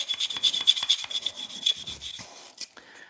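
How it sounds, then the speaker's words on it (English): A brush scrubs inside the slide of a Smith & Wesson M&P9 pistol, a series of quick close rubbing strokes in an uneven rhythm that taper off near the end. "we're going to brush right along inside here"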